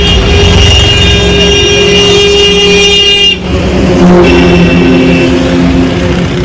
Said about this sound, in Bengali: চড়ে গেল গাড়িটা